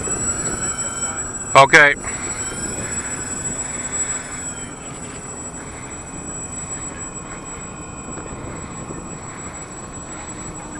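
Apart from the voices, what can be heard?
radio-controlled B-24 Liberator model plane taxiing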